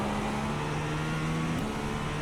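A GTP prototype race car in the iRacing simulator accelerates at Spa-Francorchamps, a dense, steady engine drone with a sustained high whine, loud and continuous with no talk.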